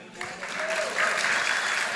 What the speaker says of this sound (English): one more round of applause for them and the staff for their work